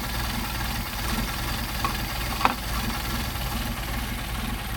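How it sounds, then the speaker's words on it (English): A Mercedes 190SL engine fed by Solex carburetors idles roughly, a steady low rumble with an uneven, slightly knocking pulse, close and continuous with one brief click partway through. "It's starting to get rough, and idle is dropping off."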